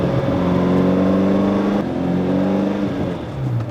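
A TVR Cerbera pulls hard in third gear after an upshift, its engine note rising loud and close from inside the cabin, dipping briefly mid-pull and then climbing again.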